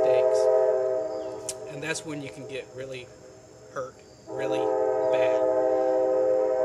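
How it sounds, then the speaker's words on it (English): A train passes nearby, its horn sounding in long sustained blasts over rumbling wheels. Someone talks over it in a rural backyard setting, with crickets faintly audible. "sorry about the train, guys."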